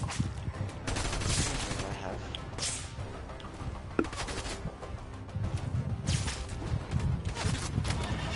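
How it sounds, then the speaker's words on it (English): Rapid bursts of gunfire ring out in a Fortnite match, crackling volleys and sharp single shots layered over game ambience and overlapping bursts, with a person talking intermittently. "Someone's shooting."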